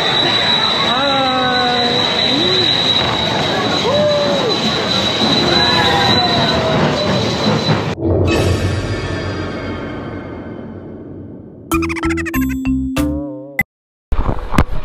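Amusement park ride train rolling on rails at Disneyland Paris, a loud continuous rumble with rising metallic wheel squeals, ending in a sudden cut to other sounds.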